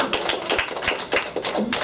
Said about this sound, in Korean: 분들이 박수 한번 쳐주세요.